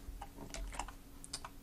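Light, sparse clicks of typing on a computer keyboard while building an AngularJS web app: a few quiet, irregular keystrokes over a faint background hum, with no talking.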